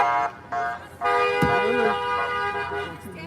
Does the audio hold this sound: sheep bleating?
no